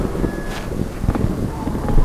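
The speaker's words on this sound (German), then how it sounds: "Wind." Wind blowing in the Trenches video game, a steady rushing gust with a few brief swells over about two seconds, fairly loud and close, with no voices over it.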